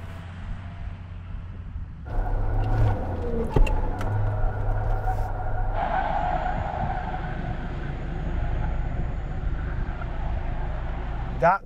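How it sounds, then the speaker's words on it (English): A Suzuki Jimny does celebratory donuts at a drag-race event. Its engine picks up at about two seconds and holds a steady, close rumble as it circles, with voices talking over it. "That celebratory driving round in a circle."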